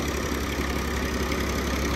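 A tractor, lifted at the rear by a crane with both tires spinning free, powers a mini brick making machine; a steady, close engine drone runs unbroken throughout with no talk.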